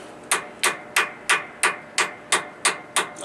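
A hammer strikes a front-drive pinion during pinion seal work: nine evenly spaced, sharp blows in a steady rhythm, each a close, dull, solid knock with a short ring.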